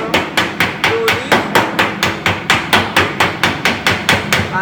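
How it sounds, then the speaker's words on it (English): A hammer and dolly work welded body metal on a 1966 Volkswagen 21-window bus under restoration, giving about seventeen loud, close, evenly spaced metallic strikes in a steady rhythm with no talking. "you use a dolly and hammer, a good dolly and a good hammer"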